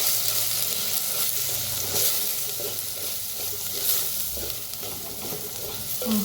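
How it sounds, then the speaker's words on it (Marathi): Tomato, onion, coriander powder, turmeric and red chilli powder roast in oil, with a steady close sizzle and repeated scrapes and clinks of a spoon stirring against the pan throughout. "बारीक चमच्यानं भाजून घेऊया"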